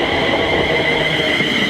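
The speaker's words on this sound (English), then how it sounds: "The train is here." A London Midland passenger train pulls into a station, a steady loud rumble of wheels and motor with a sustained high whine and squeal running throughout, close by and alone with no talk.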